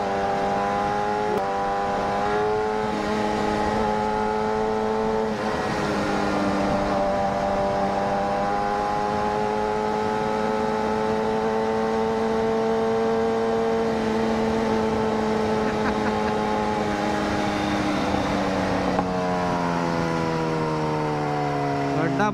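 Motorbikes race along a road in Gujarat, one carrying a girl as a passenger, with a Kawasaki Z900 rider nearby. Several close, steady engine drones rise and fall in pitch throughout.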